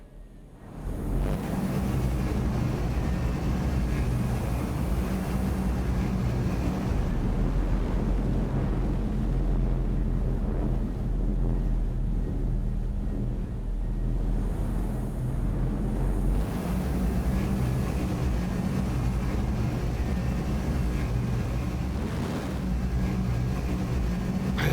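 Thrusters on a Drake spacecraft in the video game Star Citizen give a loud, continuous low roar and rumble, swelling and easing slightly, with no talking over it.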